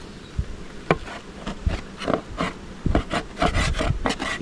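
Honey bees buzz around an open hive during mite treatment and honey super work, a busy insect drone mixed with scraping of burr comb and frame handling close by.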